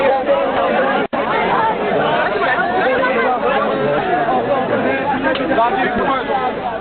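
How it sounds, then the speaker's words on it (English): A large crowd of spectators at a film shoot in Kashmir, dense overlapping chatter and babble of many voices, loud and continuous with a brief cut near the start. "The crowd jostles."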